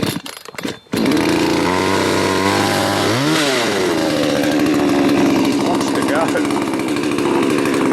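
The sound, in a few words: chainsaw starting and running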